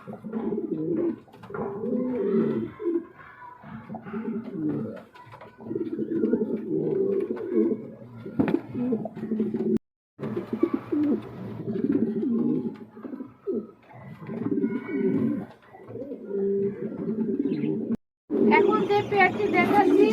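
Pigeons offered for sale as a pair coo repeatedly and close by, with throaty rolling calls throughout and brief gaps, while voices murmur in the background.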